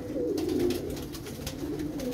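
Pigeon cooing in steady repeated low calls, close and fairly loud, with no talk over it.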